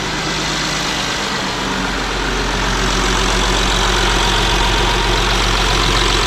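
A 2011 Audi Q7 engine idles steadily after a restart following swirl flap deletion and intake cleaning, a constant low hum with a faint rhythmic tick, close by and with no talk.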